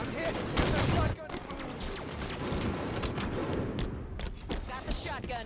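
Rapid gunfire and explosive bursts from the Halo 5 Super Fiesta multiplayer mode, sustained and dense throughout, with a loud burst near the start and overlapping game effects.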